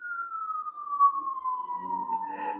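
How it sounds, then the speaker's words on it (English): An emergency vehicle siren heard from indoors, a single steady tone that falls slowly in pitch and stays faint and distant, with some soft background noise toward the end. "The sirens are going again."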